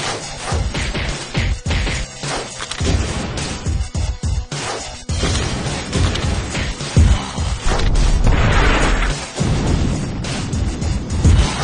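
Explosion effects from a Plants vs. Zombies 2 Crazy Zombie Machine LCD toy commercial, a dense run of loud booms, crashes and whacks over music, with repeated punchy hits throughout.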